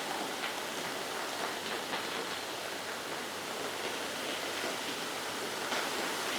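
Heavy, continuous monsoon rain in Mumbai and its suburbs, a dense, even hiss of downpour on surfaces that holds steady throughout with no voices.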